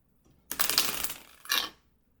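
Two quick bursts of tarot cards being shuffled, a riffle followed by a shorter second one, close and crisp in a quiet room.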